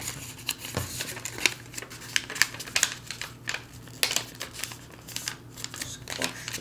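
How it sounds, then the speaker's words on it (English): Paper crinkles and crunches in short bursts as it is pressed and flattened while folding an origami ninja star, close by, with a faint low hum underneath. "Squash the paper down."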